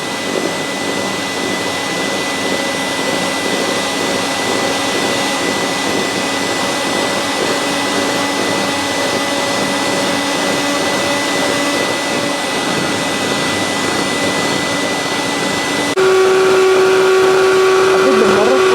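Electric hand mixer whirring continuously through cake batter for marble cake, a loud steady motor drone that shifts to a higher, stronger pitch near the end.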